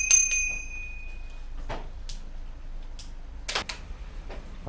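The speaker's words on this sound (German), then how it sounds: "Also die Klingel funktioniert schon mal." An old scrap bicycle's bell rings with a couple of bright metallic dings at the start, followed by soft clicks and handling noises from the bike, with no talking.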